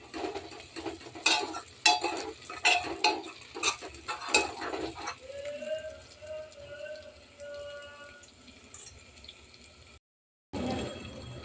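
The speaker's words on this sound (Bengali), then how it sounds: "এই যে দেখো, আমার মশলাটা পুরো ভাজা হয়ে গেছে।" Spices, onion and ginger-garlic paste fry in a pan for a rice pilaf with peas, a spoon scraping and stirring in sharp bursts before a softer sizzle continues, then a brief silence.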